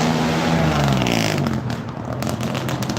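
A car driving past along busy Ocean Boulevard, a loud close engine roar with a falling pitch as it passes, followed by continuing traffic noise.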